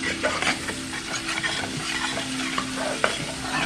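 A spoon stirs and scrapes chicken and rice across the bottom of a hot stovetop pot, with rhythmic scraping strokes over a steady close sizzle of frying.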